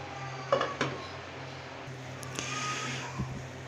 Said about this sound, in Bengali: ঢাকনাটা আবার দিয়ে দিচ্ছি।